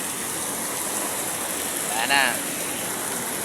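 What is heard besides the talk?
heavy rain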